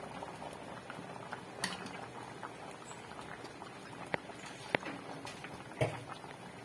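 A pot of vegetable curry bubbling and simmering steadily, with soft popping and a few sharp clicks and taps scattered throughout.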